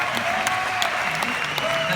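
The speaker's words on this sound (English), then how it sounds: "Let's give them another round of applause." Steady, dense applause from an audience at a Diamond Elite company business event, continuous and fairly loud throughout, with a faint voice or tone running underneath.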